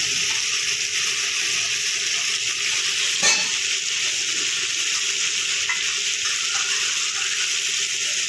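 Fish sizzle steadily in hot oil in a pan during home Bengali cooking, a dense continuous frying hiss with a brief stir clatter partway through, no voices.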